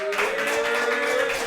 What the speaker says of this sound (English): Could y'all give a quick round of applause for yourselves right now?